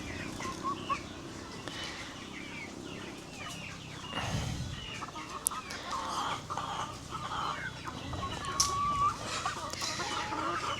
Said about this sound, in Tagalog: healthy naman yung mga manok natin dito